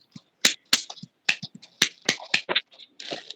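Scattered handclaps from several participants on an online video call, offered in thanks during a spiritual program; a dozen or so sharp, uneven claps ring out clearly in quiet with no steady rhythm.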